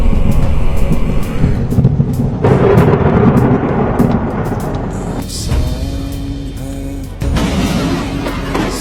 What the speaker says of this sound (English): Lightning struck shortly after.